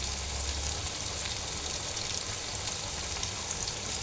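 Potatoes sautéing in oil with salt, turmeric and cumin powder give a steady, even sizzle and crackle, close and continuous without a break, with no talk over it.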